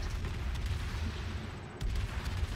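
The Minotaur cruiser's guns fire rapidly in the naval game World of Warships, a continuous rumble of low booms with brief sharper reports, moderately quiet and even throughout.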